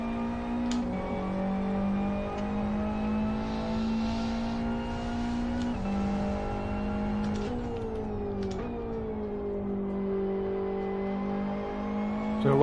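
Race car engine with big rear tyres, downforce and a turbo in the Live for Speed driving game, droning steadily at high revs through a full drift, its pitch dipping and climbing with shifts and throttle changes.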